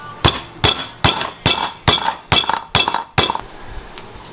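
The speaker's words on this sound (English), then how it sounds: "So my meat tenderizer. You know, I'd be tenderizing my meat like that." A handheld meat tenderizer strikes a cut of meat about eight times in a brisk, even rhythm, each blow giving a sharp metallic clink, close and loud with no talking.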